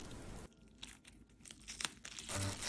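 Close, quiet tearing and crinkling as tape is pulled off and pressed onto plastic wrap around a sandwich.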